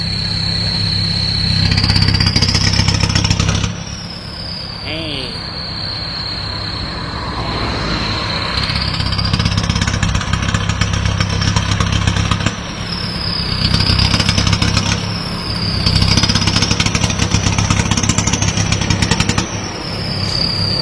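Remapped Isuzu D-Max 3.0 diesel pickup engine starting up, then idling with a steady drone and revving up in repeated rising and falling swells, loud and close throughout.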